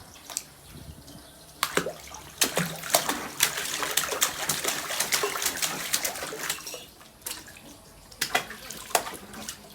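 A small child splashes and paddles in a little pool set up on a home balcony, producing irregular close splashes, slaps and trickling water over a steady watery wash, with no speech.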